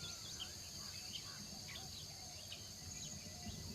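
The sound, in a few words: jungle insects chirping on the forest floor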